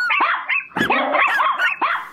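Several chihuahuas bark in quick, overlapping yaps and yips, loud and close, in a busy burst with no pauses.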